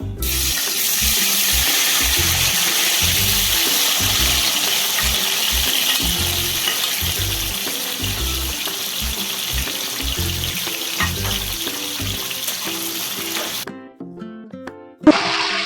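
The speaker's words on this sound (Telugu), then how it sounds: "టమాటాలు వేసుకుందాం" Chopped tomatoes hit hot oil in a pan for a pudina chutney, giving a loud, continuous sizzle with rhythmic stirring thumps that cut off abruptly near the end.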